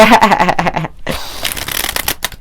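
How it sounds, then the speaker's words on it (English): A deck of tarot or oracle cards is shuffled by hand at close range: a quick run of riffling flutters, a brief pause, then a second softer burst of shuffling. "one more shuffle here"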